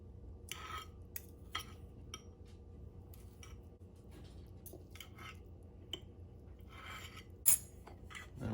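Cooked chicken for a chicken and rice soup being shredded, heard as quiet intermittent clinks and scrapes of utensils against a pot, with soft squishing between them and no talk.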